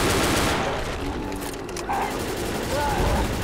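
Rapid automatic gunfire crackles continuously from the zombie co-op shooter Left 4 Dead, loud dense volleys with players' voices talking over the shooting.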